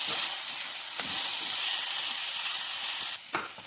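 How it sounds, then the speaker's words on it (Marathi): Chopped tomatoes frying in a pan: continuous sizzling hiss, with a few sharp clicks and a sudden drop in intensity near the end; no talking. "आता यामध्ये आपण कट केलेले टोमॅटो टाकून देऊया. कट केलेले टोमॅटो टाकल्यावर छान भाजी हलवून घ्यायची आपल्याला."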